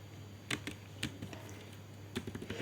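Keystrokes on a computer keyboard while entering a replace value in a spreadsheet program: a few sharp clicks in a small cluster, then another short burst near the end, quiet and close with a steady low hum underneath.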